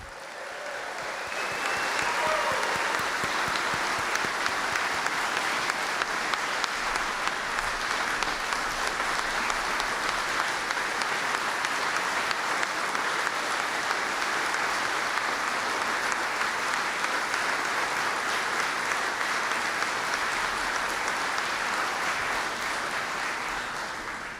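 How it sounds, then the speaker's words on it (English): An audience at the National Museum of Racing Hall of Fame induction ceremony applauds the inductees, with dense, even clapping building in after a second and holding steady for over twenty seconds before tapering off. "How about one more big round of applause for our Hall of Fame members?"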